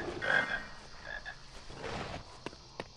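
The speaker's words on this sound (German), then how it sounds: "Ach, da ist ein Frosch." A frog croaks in a Harry Potter video game, with a short run of faint, raspy croaks followed by a couple of soft clicks, quiet and alone.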